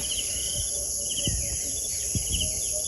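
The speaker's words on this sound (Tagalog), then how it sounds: "Napakagandang pakinggan yung mga tinig ng mga ibon." Outdoors after overnight rain, birds give short repeated chirping phrases at moderate distance over a steady, high insect drone, with a few low thumps in between.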